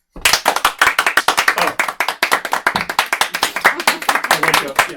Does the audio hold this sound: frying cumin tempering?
no